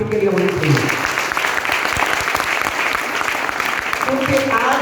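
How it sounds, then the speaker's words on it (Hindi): A seated crowd at a motivational speaking event breaks into loud, sustained applause for the team, with a voice speaking over the clapping at the start and end. "दूसरी जबरदस्त ताली हमारी टीम के लिए होनी चाहिए"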